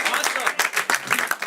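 An audience applauds volunteers at a live show, dense bursts of clapping that swell and fade over a brief moment, loud and close, with a voice speaking over it.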